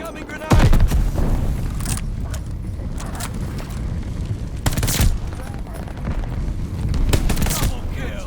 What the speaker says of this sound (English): Glide bomber assist coming in.